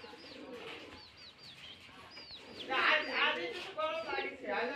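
Rajshahi Giribaz tumbler pigeons coo and chirp close by, with brief rising calls and a few louder bursts, while someone talks over them.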